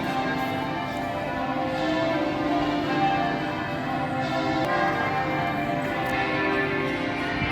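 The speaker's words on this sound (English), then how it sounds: "that's the bell down there ringing" Church bell ringing out continuously, with steady sustained tones and overlapping resonant strikes heard clearly in the open air, with no talking.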